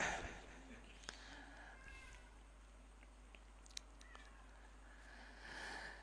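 A cat meows faintly a few times against a quiet, hissy room background, soft and somewhat distant, with no clear speech over it.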